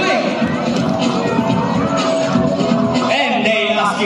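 Audience at a sea lion show cheering and shouting in a loud, continuous crowd roar, with children's voices rising above the din and no clear clapping rhythm standing out.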